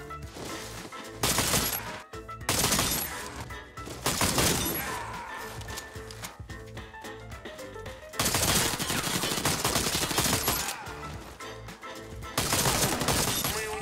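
Rapid automatic gunfire from the online shooter Warface, repeated loud bursts of shots in clusters with short gaps, sharp and dense throughout.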